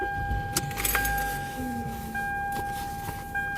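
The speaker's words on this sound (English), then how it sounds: "Let me go ahead and turn this car on." Keys jangle inside a parked car while its engine is started, with a steady electronic tone and cabin rumble underneath; the sounds are close and moderately loud, with no talk.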